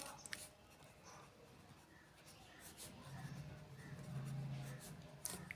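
Pen scratching out a chemistry equation on an nth-order reaction rate, soft, scattered strokes and taps that are faint and close, with a teacher's voice speaking quietly in between.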